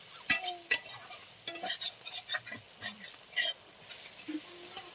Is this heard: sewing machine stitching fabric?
no